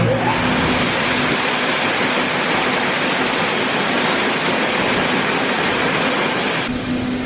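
Steady, loud roar of a John Deere S780 combine harvester running, a broad, constant drone continuing without letup.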